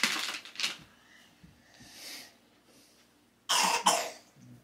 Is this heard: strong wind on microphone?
no